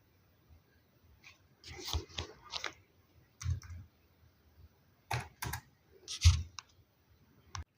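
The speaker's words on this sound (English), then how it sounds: "After that I will click on create account." Mouse clicks on a create account button while setting up a Zoom Workplace account, heard as sparse, close, crisp clicks scattered irregularly across a quiet background.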